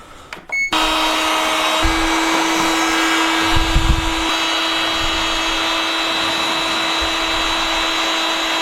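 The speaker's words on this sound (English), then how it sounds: "Those fans ran at max speed for probably about 30 seconds" Cooling fans of an EcoFlow Delta Pro 3 power station running hard under a steady 4,000 watt heater load, a loud constant whirring hiss with a steady tone that starts abruptly and continues without talk.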